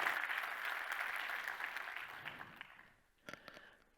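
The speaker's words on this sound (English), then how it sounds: "Please give one last round of applause to Ben Reid." Audience applause at a tech summit, a dense wash of clapping from a large crowd that gradually thins and fades, with a few scattered late claps near the end.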